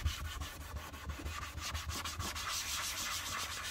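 Black trim restorer is rubbed onto a Peugeot car bumper, a close, steady scrubbing friction with rhythmic strokes, fairly quiet and with no talk.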